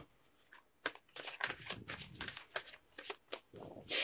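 A tarot deck is shuffled by hand at close range, giving quick riffling flutters and crisp card slaps in an irregular rhythm.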